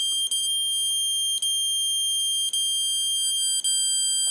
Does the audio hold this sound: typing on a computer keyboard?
no